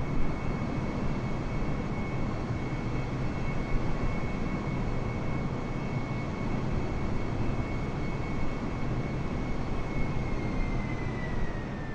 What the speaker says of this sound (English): you can see our aircraft taking off